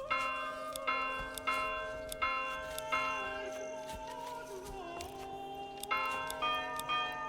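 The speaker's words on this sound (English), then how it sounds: "What's the church bell sound do?" A church bell rings in the medieval strategy game Manor Lords, with repeated resonant strikes about every half to one second whose tones ring on and overlap, fairly faint over a low steady hum.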